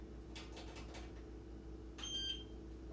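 A kitchen timer being set while food simmers on the stove: a few faint taps, then a single short, high electronic beep over a low, steady background hum.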